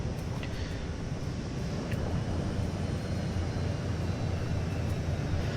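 Spacecraft engines boosting on afterburners in the Elite Dangerous video game, a steady, loud, dense roar with a deep low rumble that holds unchanged throughout, no voices over it.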